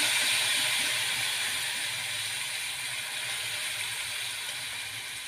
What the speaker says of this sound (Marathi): आता या फोडणीमध्ये ही अळूची पातळ भाजी घालून घ्यायची आहे